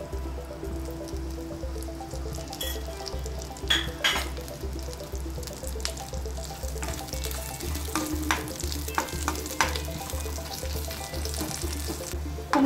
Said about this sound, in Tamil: எண்ணெய் காஞ்சிடுச்சு, நம்ம இடித்து வச்சுருக்கிற பூண்டு பல்லை இதில் போடணும்.